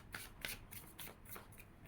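Tarot cards are shuffled close up in a few soft riffling swishes over about two seconds, faint and with no talk.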